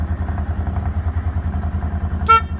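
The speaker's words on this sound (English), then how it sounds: "There's the horn again." A Polaris Ranger 1000 UTV idles with a steady low rumble, then gives one short, bright beep of its horn near the end.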